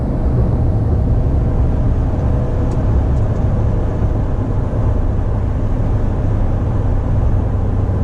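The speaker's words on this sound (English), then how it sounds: "Bouncing the truck a little, moving back and forth." Steady low road rumble from inside a Toyota Tundra truck being bounced back and forth over bumps, a continuous loud drone with no clear knocks or rattles and no talking.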